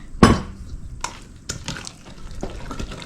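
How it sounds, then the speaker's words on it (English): Spoon clinks and scrapes in a bowl of protein pancake batter being stirred, a sharp knock at the start followed by a few scattered taps and soft scraping, close and fairly quiet, with no talking. "And you just keep stirring and checking it."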